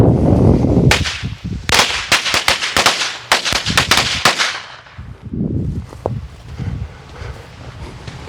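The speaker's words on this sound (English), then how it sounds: "the collectible firecrackers from Collect USA" Collectible firecrackers from Collect USA go off outdoors on a sunny day, a rapid string of sharp, loud cracks in a fast irregular volley, then a few scattered pops and windy rumble as it dies away.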